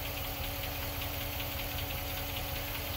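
A 5.7 Hemi V8 in a 2006 Jeep Commander idles with a Hemi tick: a steady mechanical hum carrying a fast, even ticking, recorded close and quietly, with no voices.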